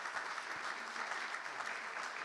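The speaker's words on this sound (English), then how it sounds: "We can give them a round of applause for their hard work in working on this as well." Steady audience applause in a county board of supervisors meeting, a dense, even wash of many hands clapping that holds at a constant level for a couple of seconds with no talk over it.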